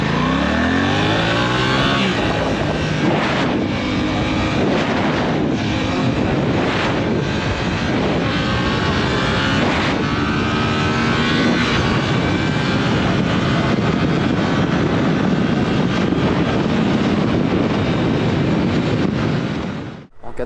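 Suzuki GSX-S8S motorcycle pulling hard in first gear, a loud, close engine roar with rising revs held steadily for about twenty seconds, buffeted by wind noise.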